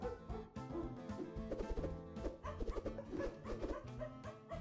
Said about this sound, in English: Why is there barking in my music?